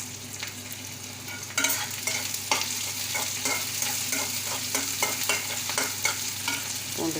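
Chopped garlic tipped into onions already frying in a pan, the steady sizzle jumping louder at the moment it goes in, then crackling with repeated stirring scrapes and no talk.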